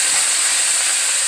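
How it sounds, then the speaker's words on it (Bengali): Cauliflower frying in a little oil for a Bengali potato, cauliflower and dal bori dish gives a constant, loud, close hiss and sizzle with no talk over it. "আগে অল্প তেল দিয়ে ফুলকপিটা ভেজে নিই।"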